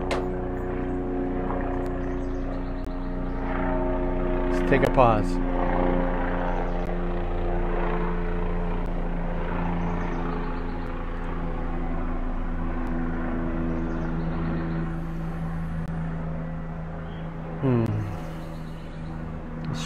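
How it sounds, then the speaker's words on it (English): A helicopter passes overhead outdoors by a lake, a steady rotor and engine drone that lasts throughout at moderate loudness, with a brief spoken remark partway through. "I'm going to stop while the helicopter goes over."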